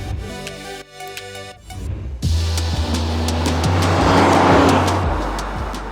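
A 2023 Aston Martin DB12 accelerates hard, its engine note climbing and swelling through gear changes into a loud, sustained roar after a short musical opening.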